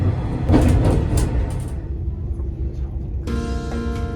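The Kanpachi Ichiroku sightseeing train rumbles steadily along the rails between Hakata and Beppu, heard from inside a wood-finished carriage, with a voice speaking over the low, continuous clatter.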